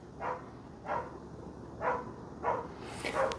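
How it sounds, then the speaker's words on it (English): A dog barks repeatedly in the distance near a workshop where a Mitsubishi L300 truck is being built, giving about five short, faint barks at a steady pace over a constant low background hum. "that dog's annoying"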